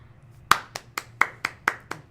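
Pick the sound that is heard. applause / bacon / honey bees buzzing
applause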